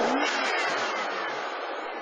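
A high-mileage car engine with over 174,700 miles, fitted with a water-assisted fuel system, runs steadily at idle with a smooth, continuous hum and a faint, slowly fading whine. No one speaks over it.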